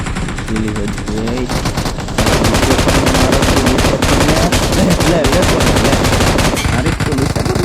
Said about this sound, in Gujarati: જો ફાયરિંગ થાય છે.